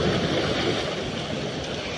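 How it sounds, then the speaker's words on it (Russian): Shallow-beach waves washing in as a continuous broadband surf roar, close and fairly loud with wind noise mixed in, no voices. "Вон там, где сейчас волна идет"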